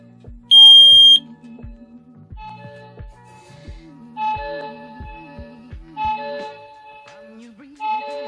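A piercing Wi-Fi connected smoke alarm shrieks briefly, then a synthesized voice-like warning with melodic beeps repeats several times, loud and close.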